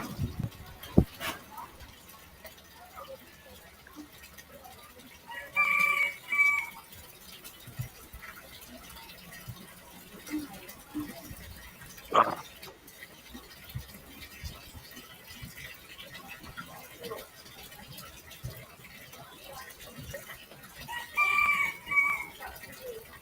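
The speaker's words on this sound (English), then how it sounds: "You said that's a Bantam rooster, right?" A Bantam rooster crows twice at a moderate distance, once early and again near the end, with scattered clucking and soft outdoor background noise between.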